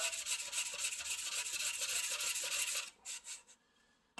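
A chisel is sharpened by hand on a stone, its flat and bevel pushed back and forth in steady close scraping strokes that break off near the end into a few short separate passes.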